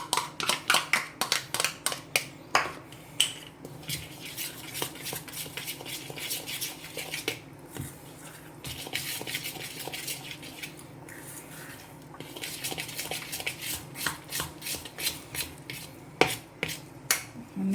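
Curd and oil for a cake batter are mixed in a bowl, with a utensil scraping and clinking against the sides in quick rhythmic bursts and brief pauses between.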